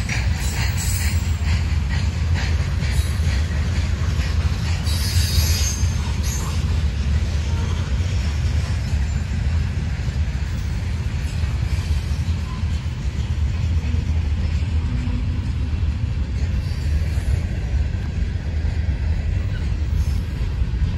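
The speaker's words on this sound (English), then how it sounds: "Well, now he's going slow now, this train here." Freight train rolling slowly past at a rail junction in Buffalo, New York, a steady low rumble of wagons with intermittent high wheel squeals and clanks, continuous and fairly close throughout.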